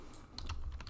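Quick clattering keystrokes on a computer keyboard while entering a Linux command to configure a cloud web server, close and brisk over a low hum.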